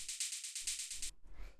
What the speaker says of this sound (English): So this is just a simple hi-hat sample.